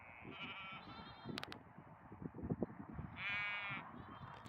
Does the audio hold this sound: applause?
no